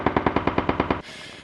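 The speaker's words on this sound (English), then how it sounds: "That's the sound of gunfire." Rapid burst of automatic gunfire heard in a news radio recording, about nine sharp evenly spaced shots in quick rhythm, loud and close, then cut off into a brief hiss of broadcast noise.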